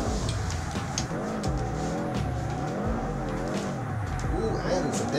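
A Chevy GTP race car with 404 horsepower in Assetto Corsa revs hard through the gears, its engine note rising and falling repeatedly, loud and close, with someone talking over it.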